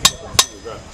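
Blacksmith hammer striking hot metal on an anvil at a smithing school, two sharp ringing blows about a third of a second apart, close and loud, with faint background sound between.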